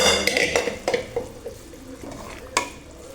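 A spoon stirs vegetables and cooked dal into a spiced tempering in a pot over a slow flame for bisi bele bath: a handful of sharp scraping strokes against the metal over a soft, continuous sizzle.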